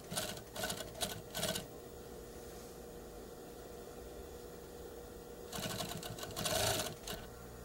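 Sewing machine stitching a collar onto a draped garment, running in two bursts of rapid mechanical whirring separated by a quiet pause.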